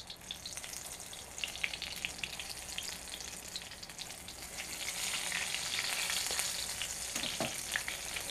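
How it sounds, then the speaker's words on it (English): Hushpuppies frying in hot grease, a continuous crackling sizzle with bursts of popping, steady throughout and growing a little louder partway through. "You already got my grease getting hot right there,"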